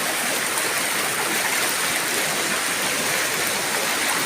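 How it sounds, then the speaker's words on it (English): Strong floodwater current rushing across a flooded park in Cairns after Cyclone Jasper, a loud steady roar of churning water heard close up with no break and no talking. "See how strong this current is."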